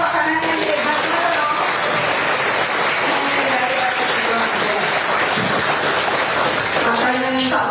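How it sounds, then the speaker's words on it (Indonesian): Sustained applause from a political gathering's audience fills the whole stretch, dense and steady, with a few voices cutting faintly through the clapping. "Ayo tepuk tangan yang hebat loh."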